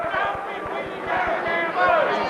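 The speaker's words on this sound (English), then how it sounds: "Crowd going there on Greg Fowler, who struck Peoples inadvertently." Boxing arena crowd roaring in reaction to a foul, a loud continuous swell of voices with rhythmic thumping beneath and a commentator talking over it.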